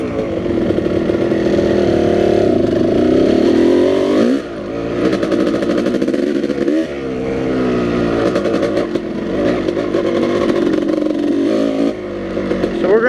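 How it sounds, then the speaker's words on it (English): A two-stroke dirt bike engine buzzes loudly and continuously as the rider travels along trails, its pitch rising and falling with throttle changes and brief dips between bursts of revving. "I'm not used to this dirt bike yet."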